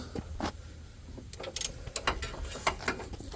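Ratcheting wrench working a tight 17 mm nut on the engine mount of a 2014-2017 Mazda 6 2.5L, a series of sharp metallic clicks and clanks in uneven bursts, close by.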